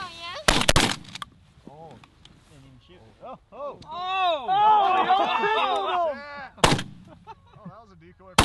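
Loud shotgun blasts ring out during a goose and duck hunt, a quick pair of shots, then a single shot later, with honking geese calling in between and a brief exclamation.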